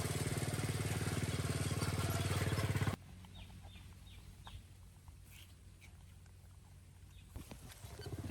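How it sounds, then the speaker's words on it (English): A motorcycle engine drones loudly and steadily up close, then cuts off abruptly, leaving a quiet outdoor scene with faint birdsong and light rustling. "Right then, the sound of the motorcycle approached."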